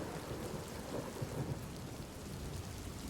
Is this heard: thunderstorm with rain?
yes